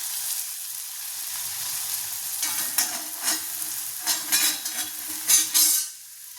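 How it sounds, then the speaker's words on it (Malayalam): Bhatura dough deep-frying in hot oil, a steady close sizzle with bursts of louder crackling and bubbling as pieces are stirred, tapering off at the end. "ഭട്ടൂര എണ്ണ ചൂടായപ്പോൾ എണ്ണയിലിട്ട് വറുത്തെടുക്കണം"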